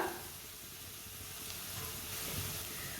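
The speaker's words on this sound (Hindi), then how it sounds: "धनिया और जीरे को भी रोस्ट कर लेंगे, थोड़ा सा भून लेंगे।" Whole cumin and coriander seeds roasting in a pan, a steady close sizzle and hiss running without pause, with no voices over it.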